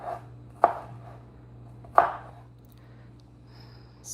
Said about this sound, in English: So I'm done chopping this.